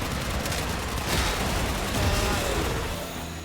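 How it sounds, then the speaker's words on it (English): Dense, continuous gunfire and bullet impacts roar through a Warframe battle, a loud wash of rapid shots with no pauses. "those aren't dudes dropping in, those are just bullets"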